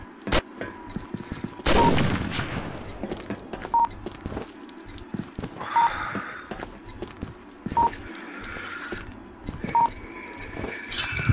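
Gunfire in an online tactical shooter match: sharp shots and short bursts crack repeatedly over about eleven seconds, loud and close, with one heavy volley near the start and game beeps mixed between the shots.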